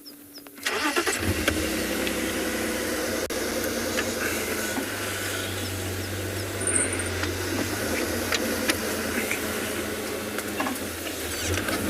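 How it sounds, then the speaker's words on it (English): A safari vehicle's engine starts and idles as the car edges forward slightly on a South African game drive, a steady close mid-pitched rumble after a sudden onset. "Let me just move the car slightly, just so that we can get her and the babies"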